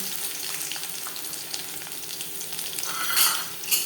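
Chopped jute leaves fry in hot mustard oil with dried chilies and garlic, giving a steady, close crackling sizzle that swells briefly near the end as the pan is stirred.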